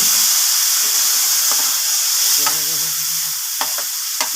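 Butter and aromatics browning in a pan, a loud continuous sizzle and frying hiss with a few brief stirring knocks and scrapes, close to the pan and without talk.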